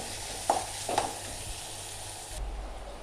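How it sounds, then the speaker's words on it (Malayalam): Ginger and garlic sizzle in hot oil in a pan for a drumstick roast, a steady close hiss with a couple of sharper spits early on, then the hiss thins and changes tone near the end. "അങ്ങനെ നമ്മുടെ ഇഞ്ചിയും വെളുത്തുള്ളിയും എല്ലാം മൂത്തിട്ടുണ്ട്"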